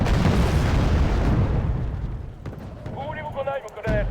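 Artillery explosions in the war game Wargame: Red Dragon: a heavy, rumbling blast that roars for about two seconds and then fades, followed by a voice talking.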